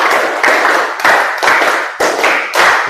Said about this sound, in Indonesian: Kurang kompak, tepuk 5 2 kali